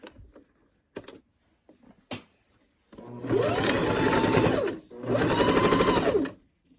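A sewing machine stitches along a fabric edge, with a few small handling clicks before two close, loud runs of steady whirring and a brief pause between them.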